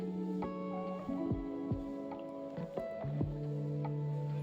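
Oil poured into a heated pan while tempering for a Kannada okra sambar, giving soft liquid pours and faint sizzling with several clinking spoon or vessel taps, close and fairly quiet, with no talking.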